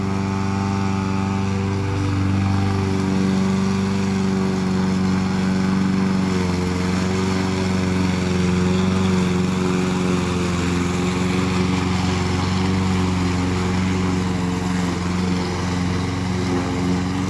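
A lawn mower runs steadily and close for the whole stretch, giving a loud, constant engine drone with no pauses and no voices.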